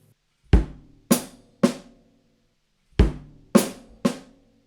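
Drum kit hits play the second three-note group of a groove in 7, starting without the hi-hat, three crisp strokes heard twice with a gap between, close-miked and alone.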